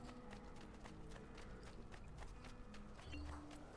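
Horse hooves clip-clop at a steady walking pace in Assassin's Creed II, soft and even, set against faint game ambience and background music.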